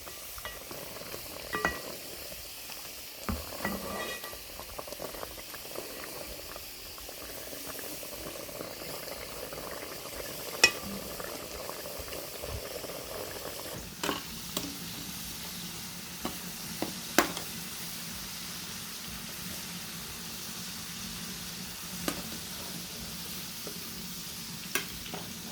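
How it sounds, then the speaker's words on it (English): Meat for biryani simmers in a pot, giving a continuous low bubbling and sizzling with occasional soft clinks and stirring knocks scattered throughout. "Our meat is here cooking."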